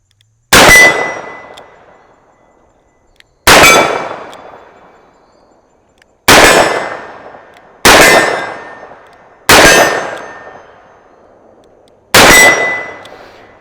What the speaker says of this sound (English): So let's shoot some of these steel targets.